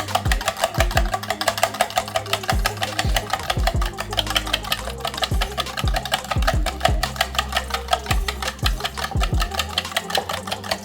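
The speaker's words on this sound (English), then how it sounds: "Now you're gonna take your whisk, and you need to mix this up really, really good" A whisk beats salt and crushed red pepper into a seasoning mix, making rapid, steady rhythmic ticking and clattering against the bowl, close and continuous with no talking.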